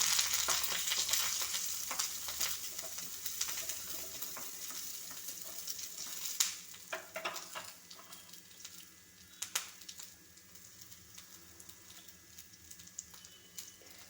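Ginger and curry leaves fry in a pan while being stirred for a mushroom dish. A steady close sizzle carries sharp scraping clatters, loudest early, then it settles into a softer, even hiss.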